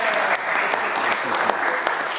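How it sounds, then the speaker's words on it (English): Sustained, dense applause fills a provincial legislature chamber in British Columbia, with steady clapping throughout and faint voices mixed underneath. "Thank you to those who are clapping."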